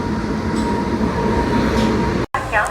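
A freight train of oxygen tanker wagons rumbles past close by in a continuous rolling roar, with a faint squeal of wheels near the end.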